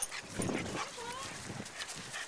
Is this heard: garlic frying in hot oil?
no